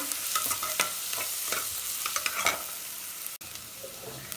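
Stone-crushed green chillies frying in a pan, a close, continuous crackling sizzle dotted with repeated clicks and scrapes of a spoon stirring, with a brief dropout near the end.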